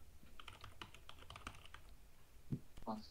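Rapid typing on a computer keyboard, a close run of clustered clicks through the first two seconds, then a pause and a few sharper isolated taps near the end.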